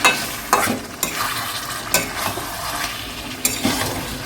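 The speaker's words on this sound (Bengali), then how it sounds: "এবারে 15 মিনিট মতো মাংসটাকে কষাতে হবে।" Chicken pieces for a South Indian chicken biryani sauté in a pan, giving a steady sizzle with several sharp spoon-stirring scrapes spread across the clip, close and fairly loud, with no voices.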